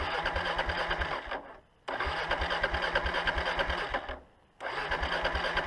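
A motorcycle engine, apparently from a Ural, KLR650 or KTM 950/990 group ride, runs steadily at a loud, close idle, rhythmically pulsing, and twice cuts out briefly before catching again, with no talk over it.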